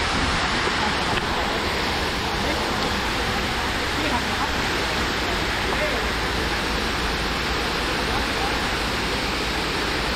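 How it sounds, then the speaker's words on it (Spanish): Steady, dense hiss of heavy rain pouring down continuously over a reservoir at constant loudness, with no pauses. "se van a mojar todas las cosas, vino la lluvia, señores."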